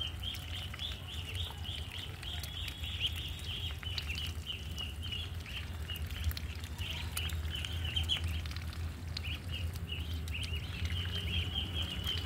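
Muscovy ducklings feed and squabble, giving faint, rapid high peeps and chirps over a low, steady background rumble.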